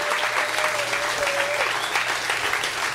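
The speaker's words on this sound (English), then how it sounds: "You guys, give these guys a round of applause." A live podcast audience at the Dan Harmon show breaks into a steady round of applause, dense and sustained throughout, with a faint whistle-like tone and a little talk mixed in beneath the clapping.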